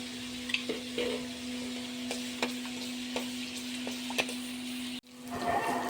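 Ginger garlic paste with cumin sizzles in half a cup of cooking oil in a wok, a steady hiss with occasional stirring clicks and scrapes, alone, ending in a brief cut and a louder burst of frying.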